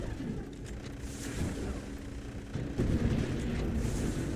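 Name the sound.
turret firing volleys of shots in a video game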